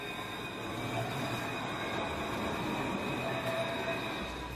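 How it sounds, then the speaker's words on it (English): Dublin's Luas, a modern urban tram, rolls along in a steady, loud rumble with a faint high whine riding over the wheel noise, continuous for a few seconds and with no voices. "Luas, Dublin's modern urban tram system, provides a link from the city's outer suburbs into its centre"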